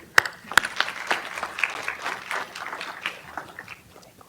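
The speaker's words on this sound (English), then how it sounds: "All right, clap it up." An audience at a school board meeting applauds a teacher, scattered clapping that starts with a few sharp claps and settles into moderate, steady applause, heard from a short distance.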